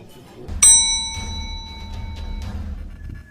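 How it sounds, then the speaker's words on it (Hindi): A single bright bell ding rings out and its pure tone lingers, fading slowly over a couple of seconds against a low background rumble. "ठाकुर ने घंटी बजाई"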